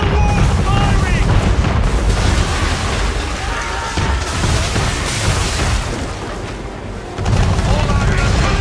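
Man-of-war warship cannon fire in Assassin's Creed 3 sounds as heavy booms and blasts over dense battle noise with music and shouting voices, loud and continuous across the span.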